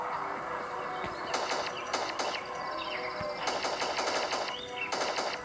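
Rapid bursts of video game gunfire crackle in quick repeated volleys, fired from long range in a pixel-style game, with short pauses between the strings of shots and no talk.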